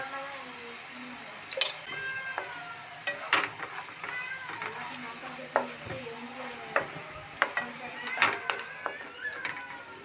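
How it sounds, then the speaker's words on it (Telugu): Ginger garlic paste is stirred and fried in oil for a beef curry, with a soft continuous sizzle under repeated scraping and knocking strokes. Intermittent high, wavering cries resembling a cat's meows sound over it. "ఇలా కలుపుకుంటూ అల్లం వెల్లుల్లి వాసన పచ్చి వాసన పోయి మంచి సువాసన వచ్చే వరకు ఫ్రై చేసుకోవాలి"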